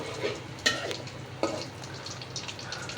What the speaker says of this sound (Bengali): জালটা বাড়িয়ে দেই, নেড়ে চেড়ে দিব একটু।